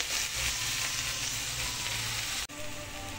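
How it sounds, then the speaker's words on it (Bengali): Onion frying in a pan of oil with a little turmeric and salt, a steady close sizzle that runs for a few seconds, with a brief dip near the end. "পেঁয়াজটা হালকা লাল লাল করে ভেজে নেব"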